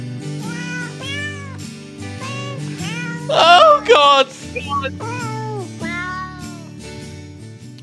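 Cat meows pitched and sequenced into a Christmas song play loud over the music, with a burst of strained caterwauling near the middle; a person exclaims briefly.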